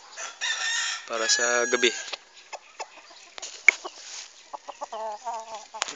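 Gamefowl chickens, offspring of a black cross and a talisayin bred on a farm with breeding pens, cluck and crow in bursts nearby while someone talks over and between them.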